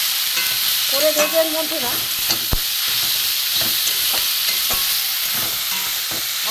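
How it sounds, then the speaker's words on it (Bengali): Bitter gourd with ridge gourd peel sizzles in a pan as it is stir-fried in spices, a steady close frying hiss with occasional scraping stirs, while someone speaks briefly near the start. "ভালো করে কষিয়ে নিই।"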